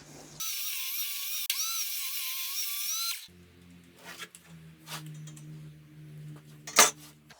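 A power tool whines loudly and steadily for about three seconds as it cuts a panel for a bathroom cabinet, then stops, leaving quieter workshop handling noises and a sharp clack near the end.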